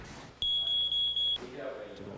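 Smoke detector alarm sounding during testing, a loud piercing high-pitched tone in rapid pulses lasting about a second before cutting off, heard close with a voice talking afterward.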